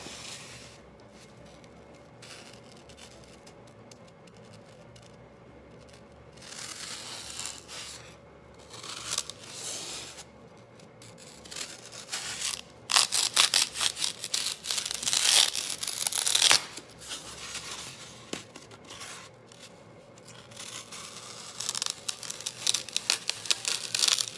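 Scissors cut a length of decor material lengthwise for a kitchen hutch, giving a quiet stretch, then louder snipping, tearing and crinkling bursts up close, with no speech.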